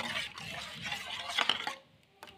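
Goat milk replacer stirred with a spoon, soft swishing liquid stirring and light scraping against the container for about two seconds, ending in a couple of faint clinks.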